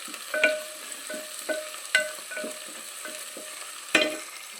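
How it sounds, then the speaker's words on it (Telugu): Tomatoes fry in a pan for an Andhra-style chicken sukka curry with a constant close sizzle. Sharp scrapes and clinks come at irregular moments as a spoon stirs them. "బాగా బ్రౌన్ కలర్ వచ్చేంతవరకు వేసుకోండి."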